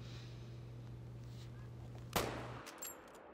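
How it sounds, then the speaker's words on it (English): A single sharp Mosin rifle gunshot rings out in the hunting video game theHunter: Call of the Wild, loud and sudden over a steady low hum, with a brief fading tail. "Downed him again with the Mosin, one shot in his track"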